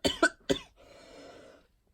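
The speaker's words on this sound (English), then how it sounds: "I've started coughing now." Two or three sharp, close coughs in quick succession, followed by a soft breathy exhale that fades out.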